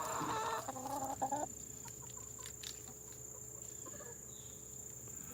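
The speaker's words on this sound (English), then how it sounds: "Chickens are good. You can hear them." A chicken clucks in a short burst of loud calls, then quieter background with insects chirping and faint bird sounds.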